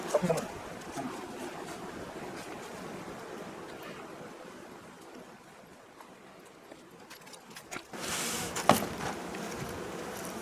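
Honey bees hum softly around a queen cage during hive work, a low continuous buzz under a person talking, with a few sharp handling knocks near the end.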